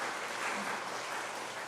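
Church congregation clapping in congratulation of new members at a Sunday worship service, a soft, steady, distant-sounding patter of applause filling the room evenly.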